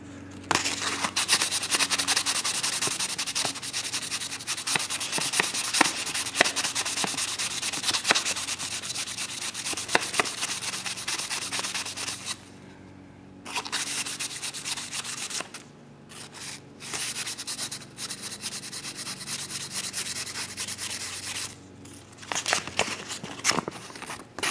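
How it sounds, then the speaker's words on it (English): A lock pick cut from feeler gauge stock is sanded by hand in long, steady back-and-forth gritty strokes, close and continuous, with a couple of brief pauses. "Sanding does take material off the pick, albeit not as quickly as a file."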